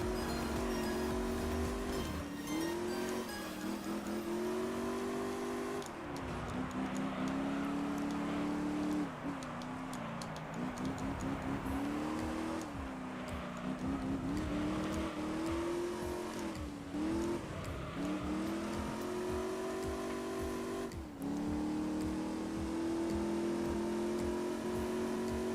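A Honda NSX prototype race car in Gran Turismo 3 revs hard through repeated gear changes, its engine note rising and dropping steadily and loudly for the whole stretch, with some tire squeal.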